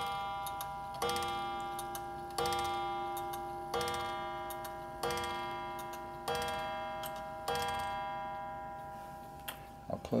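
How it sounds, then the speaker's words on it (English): Antique clock by the Winstanley family of Wigan strikes a bright, ringing chime about seven times at an even, unhurried pace, each note decaying into the next over steady soft ticking, close and clear. "You can hear the chime."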